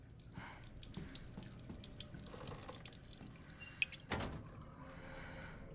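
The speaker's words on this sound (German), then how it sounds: "Ethan hat einfach das Wasser laufen lassen." Water left running from a tap in Resident Evil Village, a faint steady trickle and splash with a few drips and a brief knock near the end.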